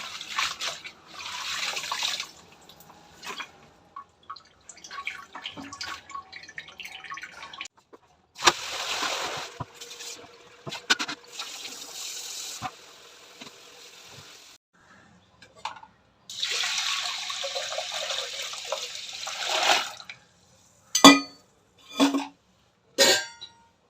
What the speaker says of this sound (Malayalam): ഈ ഇലവർഗ്ഗങ്ങൾ കൊണ്ടുവരാണെങ്കിൽ കഴുകി അതിൻ്റെ അകത്താണ് കഴുകുന്നത്